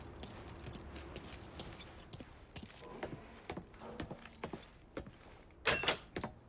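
Keys jingle in the video game Mafia 3 as a bunch is picked up, giving light, scattered metallic clinks that grow louder and denser toward the end.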